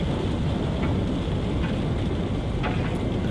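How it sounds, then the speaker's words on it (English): Steady, loud rain pours through a thunderstorm in the video game No Man's Sky, with a broad continuous roar and faint rumbling swells, no voices. "Ruddy storm."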